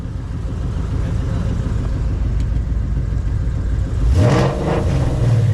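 Idling at first, a Shelby GT500 race car with an open exhaust rumbles steadily before revving up sharply near the end, loud and close from inside the cabin.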